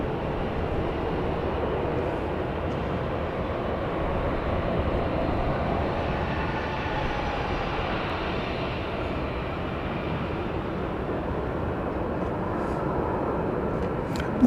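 An airliner taking off from runway 31 left at Dallas Love Field, a steady, broad engine roar heard from a distance that holds level for about fifteen seconds with no talking.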